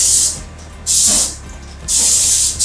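Three sharp hissing bursts of cooking spray onto a hot grill, each lasting about half a second, with a low background hum between them.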